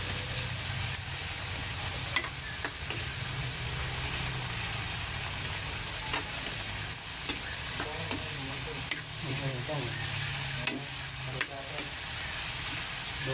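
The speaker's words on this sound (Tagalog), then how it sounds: "nilagay na po natin ang binurong tokwa at saka po black beans" Fermented tofu and salted black beans sauté in a pan with a strong, steady sizzle, overlaid by repeated scraping and stirring strokes and small crackling bursts, close and continuous.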